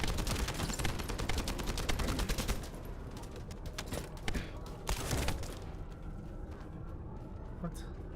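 Rapid bursts of automatic gunfire in the video game The First Descendant, dense and loud at first, then thinning into scattered shots and thumps, with a voice speaking over parts of it.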